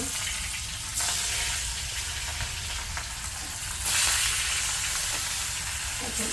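Fish frying on a village stove, producing a continuous broadband sizzle that swells louder in two stretches, heard close and alone without speech.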